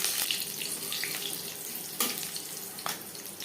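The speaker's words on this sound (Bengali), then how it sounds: "কালো জিরে ভেজে নেওয়ার পর দিয়ে দেবো কাঁচা লঙ্কা" Green chillies and nigella seeds frying in hot mustard oil make a dense, steady, rushing sizzle with a few sharp crackles and pops, close by and without speech.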